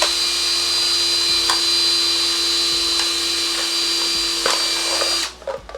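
A power drill bores a hole through the bottom of a stack of plastic cups, a steady high whine that runs for about five seconds and then cuts off abruptly.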